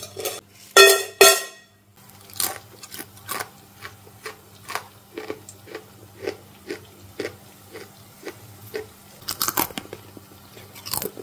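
Crispy fried ripe Nendran banana chips being crunched, a loud run of sharp bites near the start, then a steady rhythm of close, brittle chewing crunches, with another burst of bites at the end.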